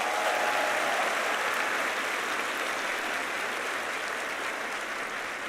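A church congregation breaks into loud, dense applause, a steady wash of many hands clapping together that holds for several seconds and tapers slightly at the end.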